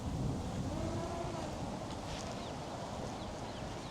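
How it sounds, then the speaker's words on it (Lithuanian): Strong wind buffeting the microphone of a flying drone in a steady, loud roar with low rumbling gusts throughout. "vėjas baisulinis"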